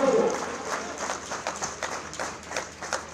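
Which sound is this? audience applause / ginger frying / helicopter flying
audience applause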